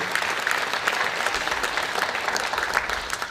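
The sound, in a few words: audience applause at honor society induction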